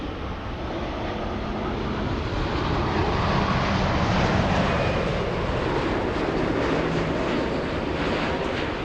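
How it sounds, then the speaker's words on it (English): An American Airlines Boeing 787 Dreamliner on final approach at LAX produces a steady, broad roar of engine and rushing air that swells slightly midway and holds, heard at a distance with no voices. "It's the American Dreamliner from Narita."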